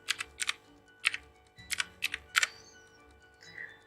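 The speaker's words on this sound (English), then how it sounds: "and then I am typing bridge" Quick bursts of keystrokes on a computer keyboard, a few clustered taps with short pauses between, close and fairly quiet.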